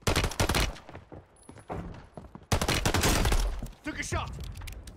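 Shots from an XRK Stalker rifle in Warzone 3, heard as sharp loud cracks and gunfire bursts mixed with in-game noise, with someone talking over the shooting.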